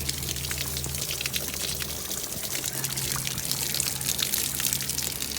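Water drains steadily from a camper's plumbing while it is winterized, a continuous close splashing pour with a broad hiss that runs the whole time.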